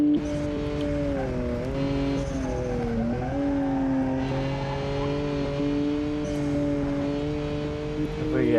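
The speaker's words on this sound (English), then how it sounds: "the 400 horsepower kind of GTR thing is keeping up with my 520 horsepower sedan" A 520 horsepower sedan drives in the BeamNG racing game, its engine a steady loud drone with tones that dip and rise as it shifts and revs, heard close and alone without talk.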